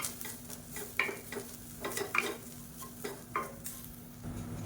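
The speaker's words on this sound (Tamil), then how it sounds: "இப்போ தேங்காய் நல்லா வதக்கியாச்சு" Grated coconut is sautéed in a pan with a spatula, making repeated uneven scraping and tapping strokes over a light sizzle, close and fairly soft, with a low steady hum behind and no talking.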